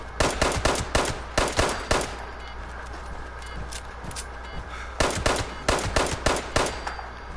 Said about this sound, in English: guy's shooting me up.